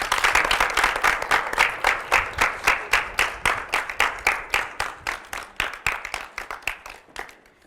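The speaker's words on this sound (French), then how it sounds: "On va te raccompagner sous des applaudissements" A studio audience on a French television talk show claps in a steady, rhythmic unison beat, each clap distinct and evenly spaced, gradually thinning and fading toward the end.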